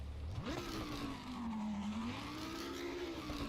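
Racing car engine in the Assetto Corsa EVO video game, a loud, steady engine drone that sweeps up sharply, then dips and climbs again through the revs with no speech over it.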